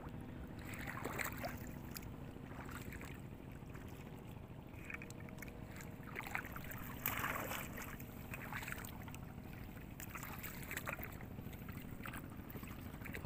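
A small boat is poled along through water, with soft intermittent swishes and splashes over a constant low rumble of wind and distant outdoor noise, faint and fairly far.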